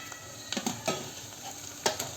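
Tomatoes go into golden-brown frying onions in a pan for dal fry, giving a soft steady sizzle with a few brief stirring and scraping clatters, close and fairly quiet.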